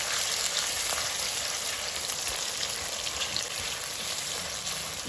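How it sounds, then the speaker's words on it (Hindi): Onions fry in hot oil with spices for Kashmiri chicken, giving a steady, dense hiss and crackle of sizzling that runs evenly without pause, and no voices are heard. "तो हमारी प्याज थोड़ा सा फ्राई हो चुकी है।"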